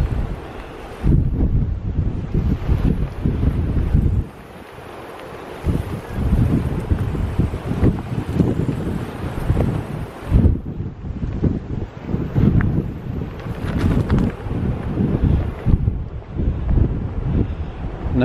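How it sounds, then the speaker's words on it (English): Strong wind sweeps the open coast along the Cape to Cape track between Canal Rocks and Injidup Bay, buffeting the microphone with a loud, gusty, continuous roar that surges and eases throughout. "I'm going to pick up the wind then."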